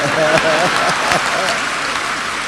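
An audience claps at a Hindi comedy poetry gathering (hasya kavi sammelan): sustained, fairly close applause that runs through the whole moment, with a voice talking over it.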